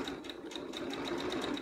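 A sewing machine stitches fabric for an herbal sachet, its needle chattering in a fast, even rhythm of about a dozen stitches, close and steady with no talking.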